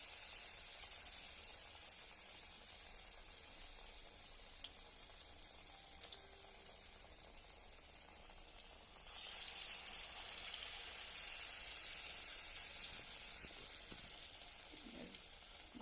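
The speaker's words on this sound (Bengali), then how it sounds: "তেলে ছেড়ে দিচ্ছি। এই বেসনে ডুবাচ্ছি, ডুবিয়ে এই ছেড়ে দিয়েছি।" Cabbage chops dipped in gram flour batter fry in hot oil, a faint, steady bubbling sizzle that grows slightly brighter and busier partway through, with a few soft knocks near the end.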